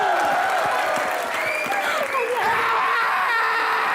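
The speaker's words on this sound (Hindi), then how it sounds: "जोरदार तालियां।" A studio audience at a comedy show applauds in a dense, continuous burst, with some cheering and laughter mixed into the crowd noise.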